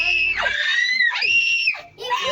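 People scream loudly in a stalled cable car high over Andorra, with long shrill wails rising and falling in two or three bursts close by.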